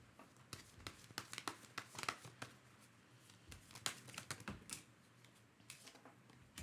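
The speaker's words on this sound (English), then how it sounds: "Let me shuffle for a third." Tarot cards being shuffled by a reader, a run of quick, crisp riffling and tapping bursts with short pauses between them, close and fairly quiet, with no talk over it.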